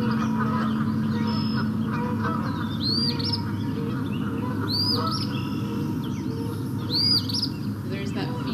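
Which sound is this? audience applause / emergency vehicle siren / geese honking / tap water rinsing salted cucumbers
geese honking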